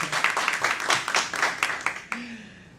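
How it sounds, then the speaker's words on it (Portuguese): A small audience at a talk on violence against women claps for about two seconds in loose, scattered bursts. The clapping stops abruptly and a single voice begins speaking. "pode bater palmas."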